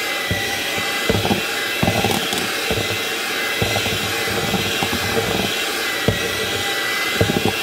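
Electric hand mixer beating powdered sugar icing, a steady loud motor whir with irregular knocks and clatter of the beaters against the bowl throughout.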